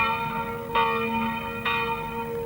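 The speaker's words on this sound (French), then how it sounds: "La cloche du village, un jour de semaine et au début de l'après-midi." A village church bell rings on a weekday early afternoon, two clear bright strikes with long humming decay, moderately close and alone with no voices.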